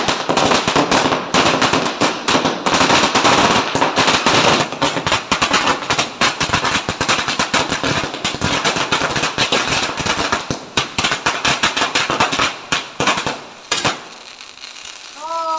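A long rapid string of firecrackers bursts during Karthigai Deepam festival celebrations, a dense loud crackling barrage of sharp pops that goes on for about fourteen seconds, then stops abruptly and leaves quieter sound behind.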